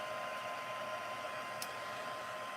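A hair dryer blows on a 6x8 mixed media canvas, a steady, even whoosh of moving air throughout with no breaks, with no voices heard over it.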